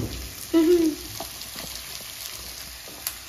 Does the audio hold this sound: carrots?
yes